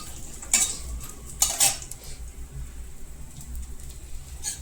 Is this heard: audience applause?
no